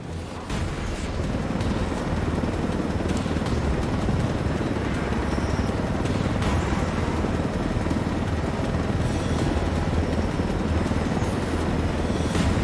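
Helicopter in Ghost Recon Wildlands, a dense, loud rotor thump and engine roar held steadily throughout with no voices.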